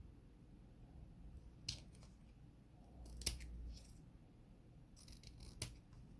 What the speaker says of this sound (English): I'm just gonna trim that excess away.